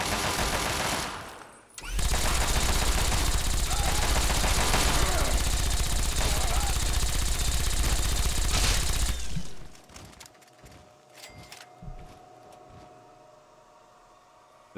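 Sustained, loud automatic gunfire from combat in the video game Fallout 3 rattles continuously for several seconds, then cuts off and leaves scattered quieter clicks and thuds with faint talk underneath.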